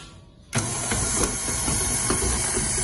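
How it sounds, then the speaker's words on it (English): Stand mixer creaming butter and brown sugar, switching on suddenly after a quiet moment into a loud continuous motor hum with a faint rhythmic beating, up close and without talk. "We put this now into our mixer, and we are going to cream this or soften it until it is very light and fluffy."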